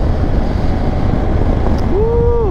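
Loud, steady roar of wind buffeting a cheap motorcycle helmet with the face shield down while riding, filling the whole stretch without a break.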